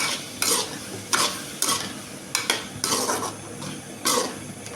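Potatoes and other ingredients for kuzhambu sautéing in a pan, a steady sizzle under repeated rhythmic scrapes of a spoon against the metal, close and fairly loud, about half a dozen stirring strokes.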